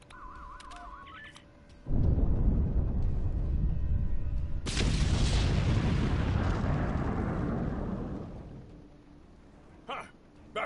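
A thrown explosive detonates in a PS4 video game: a sudden loud blast rumbles and roars, then a second sharper burst follows and decays slowly over several seconds into quieter debris and background tones.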